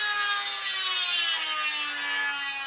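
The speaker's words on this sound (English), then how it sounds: "I'm going to take my cutoff tool, and I'm going to try to cut all the way down it." A cutoff tool slices through a part on a vintage camper rebuild, giving a steady, loud high-pitched grinding whine with a slowly falling tone that runs unbroken for the whole stretch, with no talking.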